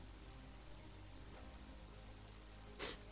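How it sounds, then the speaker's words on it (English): A single short, sharp sneeze bursts out near the end over a quiet room background. "I had to do some sneezing, a little allergy going on here."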